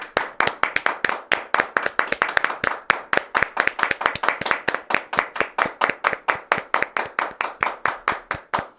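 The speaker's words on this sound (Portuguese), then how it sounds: "Eu vou pedir uma salva de palmas pra emissora CNN." Crisp, close hand claps in a brisk, even rhythm, roughly four per second, kept up steadily for about nine seconds with no voices over them.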